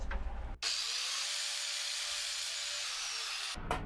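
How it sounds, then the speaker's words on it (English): A continuous high-pitched abrasive whine of a sanding pad grinding a metal rivet on a shovel, steady and close, starting and stopping abruptly. "I'm just going to see if I can just take that rivet out just with this sanding pad."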